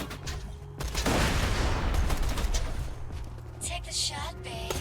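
A grenade detonates in a first-person shooter game played on a controller: a loud, rolling blast with crackling debris that swells and fades over a few seconds, followed by gunfire pops and a faint voice.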